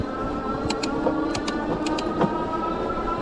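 A KBO Ranger cargo e-bike climbs a hill, its motor giving a steady whirring drone close by with faint clicks, and no voices.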